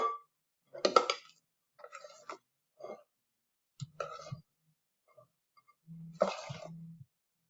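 Chocolate soufflé batter is mixed and scraped in a bowl, with sparse clinks and scrapes of the utensil against the bowl in short bursts separated by quiet gaps.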